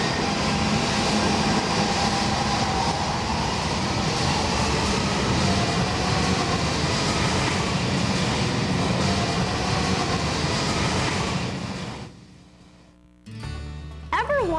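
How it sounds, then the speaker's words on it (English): A Lisbon subway train running underground, a loud, steady rumbling roar with rail noise that holds for about twelve seconds before dropping away, followed by a brief quieter tail. "Subway trains run under the ground."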